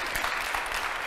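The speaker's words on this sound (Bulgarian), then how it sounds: "Аплодисменти още веднъж за него!" An audience at a talk event breaks into applause, a dense, steady burst of clapping heard briefly and fairly close.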